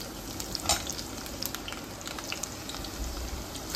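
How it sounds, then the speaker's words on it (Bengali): Chopped garlic frying in oil, a soft steady sizzle with scattered crackles and pops, fairly quiet and close, with no voices. "এবারে এর মধ্যে আমি দেবো 3-4 চামচ রসুন কুচি"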